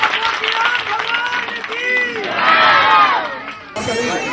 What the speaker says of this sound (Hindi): एक बार जोरदार ताली बजाकर इनका जोरदार स्वागत कीजिए